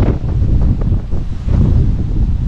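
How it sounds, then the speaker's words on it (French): Strong, gusty wind buffets an outdoor microphone during a family picnic, a loud rumbling roar that surges and eases in waves with no talking. "C'est rafale qu'il y a"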